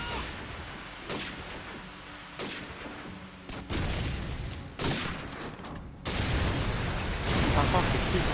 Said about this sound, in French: Les tirs de sniper.